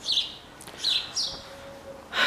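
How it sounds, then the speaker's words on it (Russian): Birds chirp outdoors on an overcast walk, giving a few short, high tweets close together followed by a sharper call at the end. "Гуляем, птички поют"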